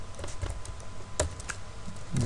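Sparse keystrokes on a computer keyboard, a few isolated clicks spaced irregularly over about two seconds, fairly close with a low background hum and no speech.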